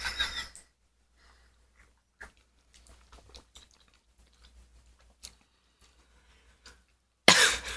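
A person coughs close by while tasting rose gin, with short bursts at the start and end and quiet chewing and mouth sounds in between.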